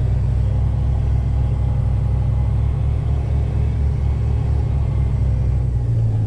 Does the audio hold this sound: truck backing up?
yes